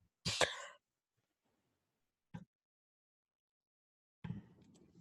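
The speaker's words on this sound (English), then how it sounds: "Sorry, I had to cough again." A single sharp cough near the start, followed by a faint short sound and a muffled shuffle, otherwise quiet.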